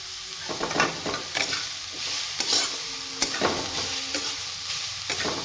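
Grated carrot frying in ghee over low to medium heat, with a steady sizzle and repeated scraping stirs of a spatula at an irregular rhythm, close and fairly loud, no voices.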